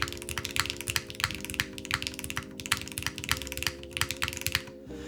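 Rapid typing on a mechanical keyboard fitted with modded milky yellow switches, a busy run of crisp clacking keystrokes close up over a low hum, with no talking.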